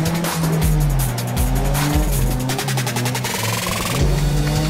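A Ford RS200 Evo rallycross car in a racing video game drifts with loud, continuous tire squeal over a revving engine whose pitch rises and drops repeatedly through gear shifts, close and steady with no talk.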